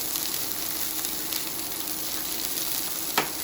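Salmon fillet sizzling steadily in a hot pan with rosemary, mint, chives, salt, pepper and lemon, a continuous close frying hiss with a brief sharper spit near the end, no talking.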